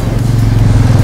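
A Royal Enfield Meteor 350 cruiser motorcycle pulling away, its engine giving a steady, loud low thump with a faint mechanical clatter throughout, no voices.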